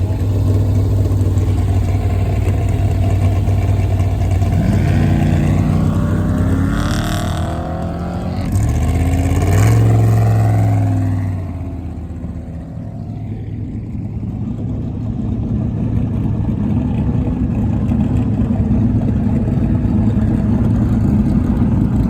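Off-road race vehicles from a Best in the Desert Vegas to Reno desert race launch off the start line, engines roaring loudly and rising in pitch as one passes close by, then fading into a steady distant rumble.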